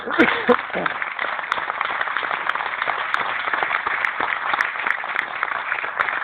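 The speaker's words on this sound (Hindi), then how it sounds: "सभी के लिए साथियों जबरदस्त तालियां।" An audience claps continuously at an indoor event, with a steady, fairly loud wash of hands. A voice can be heard briefly at the start.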